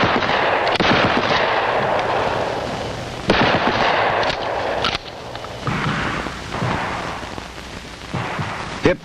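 Shotguns fire on a law-enforcement training range, with loud, booming reports spaced several seconds apart, each blast followed by echoing rumble and a continuous roar of range noise between shots.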